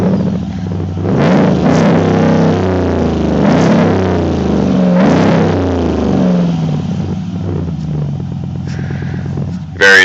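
A 2012 Dodge Longhorn gas pickup truck revs hard through its exhaust in several loud, close bursts over a steady deep idle rumble.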